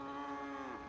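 Cattle mooing in the city-building game Cities: Skylines, a single sustained, tonal moo lasting under a second, steady and fairly loud, with no talk over it.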